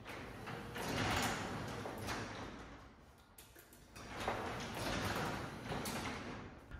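A Liftmaster garage door opener with an RPM sensor problem drives the door only a couple of inches before reversing, giving two rumbling, rattling runs of motor and door noise that swell and ease.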